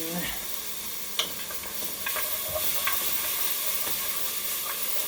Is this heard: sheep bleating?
no